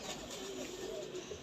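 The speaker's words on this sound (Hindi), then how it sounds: "ये कबूतर है।" Domestic pigeons of a dab-marked fancy breed cooing softly at close range, a low continuous murmuring coo over faint background noise.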